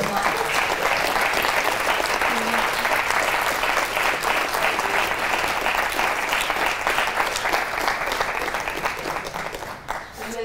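Hearty applause from an audience for a group of 2019 summer college interns after their presentation, a dense, steady wash of clapping that stays loud throughout and thins slightly only at the very end.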